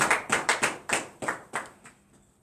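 Roughly eight distinct hand claps ring out in an uneven rhythm during a morning prayer gathering, close and crisp, gradually fading out as the clapping tapers off.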